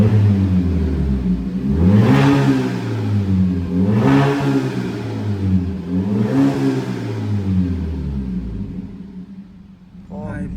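A naturally aspirated 2.0 Jeep Compass with a 304 stainless exhaust diffuser opened revs hard three times in a row, each rise a loud, close, deep rumbling roar that falls back between pulls, then it settles to idle.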